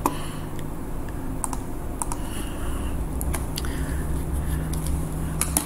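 Typing on a computer keyboard produces scattered clicks and short bursts of keystrokes over a steady low hum, close and fairly quiet, with no one speaking.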